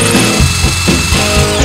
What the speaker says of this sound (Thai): ทีนี้เราก็เจาะรูนำของเราไว้เรียบร้อยแล้วครับ